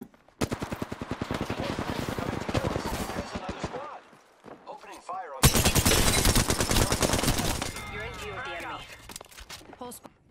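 Close, loud automatic gunfire from Apex Legends comes in two long rapid bursts of sharp, evenly spaced shots, with a short pause between them, and a voice talking over the end.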